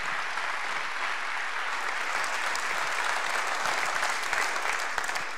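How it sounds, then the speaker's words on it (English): A church congregation applauds a graduate, sustained dense clapping at steady volume lasting several seconds, with no talk over it. "Can you give a round of applause for Samantha Maxwell?"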